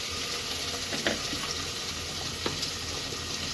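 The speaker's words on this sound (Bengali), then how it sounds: "টমাটোর কাঁটাটা দিয়ে দেবো, নাড়াচাড়া করে নিই 2-1 সেকেন্ড।" A pot of cooking rice and beans being stirred after tomato goes in, giving a steady simmering hiss with a few soft scraping clicks of the spoon, fairly quiet and close, with no talking.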